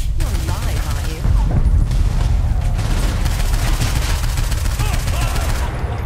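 Heavy gunfire from Saints Row 4, a dense stream of shots and booms that runs loud and steady through the whole stretch, with a voice talking in places underneath.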